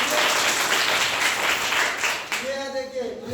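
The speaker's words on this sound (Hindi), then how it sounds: "जोरदार ताली बजाइए।" Children in a classroom break into loud, dense applause for a few seconds, the clapping fading near the end as voices take over.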